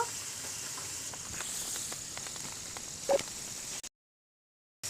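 Boiled elephant foot yam stems are sautéed in spice masala, giving a soft, low sizzle with faint stirring taps and one brief louder clatter before the sound cuts out to silence.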